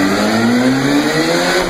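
A Subaru BRZ fitted with a V8 made from two Kawasaki 1200 motorcycle engines joined together, revving to 11,000 rpm with 360 hp, gives a loud, close, steady high-revving howl that rises slightly in pitch over a short burst.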